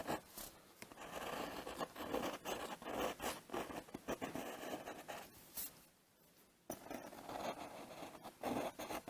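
An eraser rubs pencil lines off a drawing of an Allosaurus dinosaur, quick rhythmic scrubbing strokes in bursts with a short pause, close and quiet.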